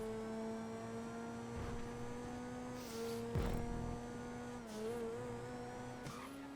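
A Turismo-R sports car racing in GTA, its engine droning at a steady high pitch with shifts and dips in revs, brief thumps and tyre noises, up close and continuous.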